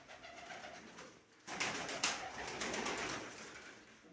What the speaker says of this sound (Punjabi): ਆਪਣੇ ਕਾਲੇ ਕਬੂਤਰ ਦਿਖਾਉਣੇ ਤੁਹਾਨੂੰ ਅੱਜ